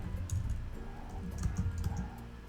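Quiet typing on a computer keyboard: soft, irregular key clicks tap along at a steady working pace against a low background hum, with no voices.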